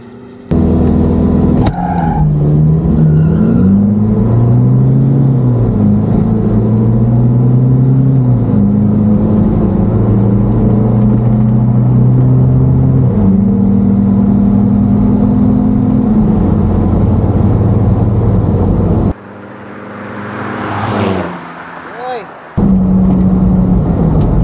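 A Nissan Terra and a Mitsubishi Strada drag race off-road in Mindanao, with loud, close engines revving and climbing through gears in a sustained roar, a brief lull near the end, and people talking over it.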